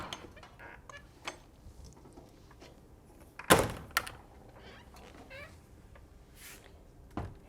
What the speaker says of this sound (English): Get this door open.